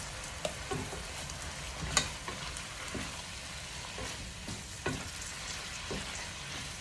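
Beef seasoned with black pepper stir-frying in a pan for a bitter gourd dish, a faint continuous sizzle with occasional soft scrapes of stirring, no voices.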